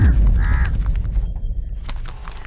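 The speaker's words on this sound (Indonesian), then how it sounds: "ada 2 ekor burung gagak yang saling bertengkar, yang salah satu membunuh yang lainnya." Two crows caw harshly in a couple of loud close calls, followed by rustling and scattered noises under a low rumbling background.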